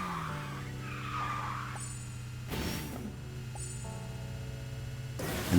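Tire skid of a kart drifting in Kartrider: Drift, a steady engine drone with a squealing slide and two short louder bursts as the drift shifts.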